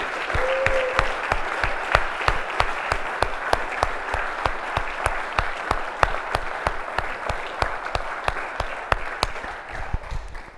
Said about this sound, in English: So give Kyle a big round of applause here.